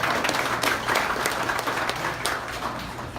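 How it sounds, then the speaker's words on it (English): Audience at an evening political meet-and-greet on Virginia's Eastern Shore breaks into steady, dense applause that fills the room, with a faint voice or two under the clapping. "Can we give yourselves a round of applause"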